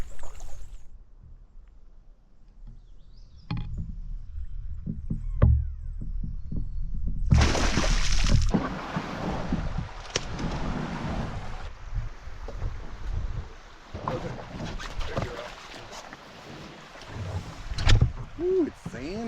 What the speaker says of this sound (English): we're just paddling up through the narrow section and up to the start of the hike